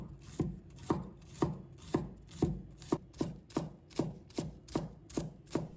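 A knife chops scallion whites into small pieces on a cutting board, about a dozen evenly spaced, close thuds in a steady rhythm with no talking.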